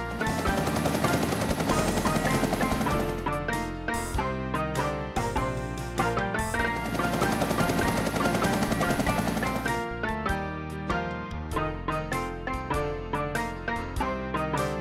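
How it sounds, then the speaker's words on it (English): An army transport helicopter flies steadily for the whole stretch, its loud continuous drone layered with a dense tonal bed, with brief dips in level along the way. "Army transport helicopter."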